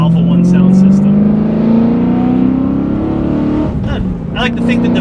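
A BMW E92 M3's V8 engine drones loudly and steadily, its pitch slowly climbing over several seconds, with a voice speaking over it.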